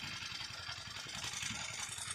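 A motorcycle crossing a bamboo bridge over a wide river in a rural wetland area: a steady, mid-pitched engine drone with a rough, throbbing texture that holds at a moderate distance throughout.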